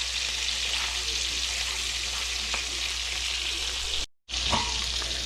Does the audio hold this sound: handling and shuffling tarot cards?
no